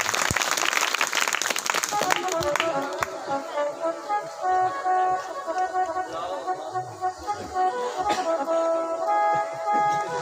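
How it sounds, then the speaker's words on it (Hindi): A brief burst of audience clapping at a Hindu katha religious gathering, loud at first and fading after about two seconds into sustained devotional music with steady harmonic tones. "ताली बजा।"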